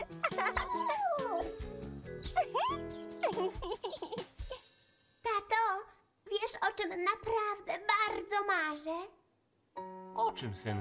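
A cartoon puppy gives high yips and whimpering barks in short bursts, mixed with a child's giggles and cartoon voices, with brief silent gaps between the bursts.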